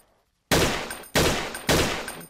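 Gunfire in the first-person shooter video game Blockade 3D: three loud, close shots about half a second apart after a near-silent start, each with a short ringing tail.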